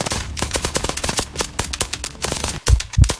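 Guards fire a rapid volley of gunshots at a soldier fleeing across a border, dozens of sharp cracks in dense irregular bursts. Two heavier, booming shots close the sequence.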